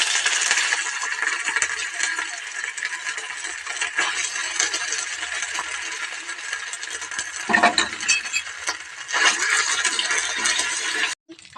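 Ginger paste hits hot oil with bay leaf and a dried chilli for a mango-ginger pickle, giving a loud, steady frying hiss with stirring scrapes and a brief rattle partway, running unbroken until a sudden cutoff, no voices.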